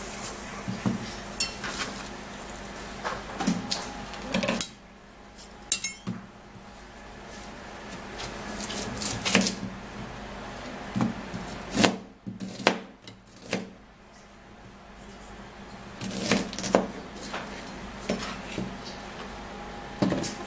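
An onion being peeled by hand in a kitchen gives off scattered crackling and rustling of papery skin, with sharp clicks and knocks against a surface and quieter pauses between bursts.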